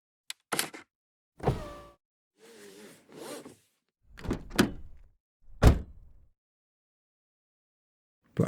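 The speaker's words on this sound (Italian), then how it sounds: "Car Foley." Car foley effects from Krotos Studio sound as separate close thunks, latches and brief mechanical rattles, spaced apart with silence between them and ending on a sharp final hit.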